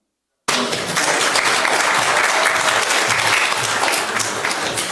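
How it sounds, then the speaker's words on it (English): Audience applause at a panel event on women, peace and security, a dense, steady burst of clapping that starts suddenly and holds at full strength for several seconds before easing slightly. "So round of applause."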